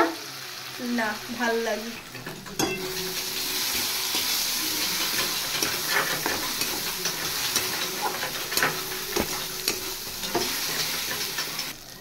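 Chopped tomato and sugar fry and spatter in a hot pan, a steady close sizzle with sharp pops and stirring clatter throughout, while a voice speaks briefly near the start.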